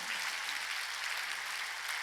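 A church congregation claps together during a Sunday worship service, dense steady applause filling the room without a break.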